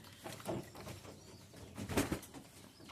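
Racing pigeons cooing inside their loft, a few soft, low coos rising near the middle and again around the two-second mark over a quiet background.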